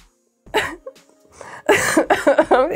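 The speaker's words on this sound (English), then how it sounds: "We're gonna have a coughing fit." A couple of short coughs and throat sounds, then a person starts talking quickly nearby.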